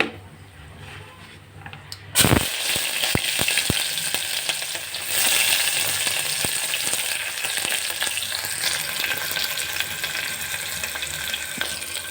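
Sliced onions, curry leaves and dried red chillies sizzling in hot oil for chicken curry, a loud, steady close-up crackle after the ingredients drop into the pan, with scattered stirring clinks throughout.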